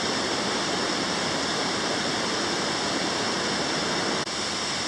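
Waterfall at the side falls near Tobermory, a dense, constant roar of falling water, close and loud, with no voices.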